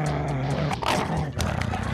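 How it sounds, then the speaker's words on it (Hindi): A dog barks and roars in a few rough bursts amid a noisy, chaotic scene, close and loud, with voices mixed in. "अबे ये तो कुत्ता है यार"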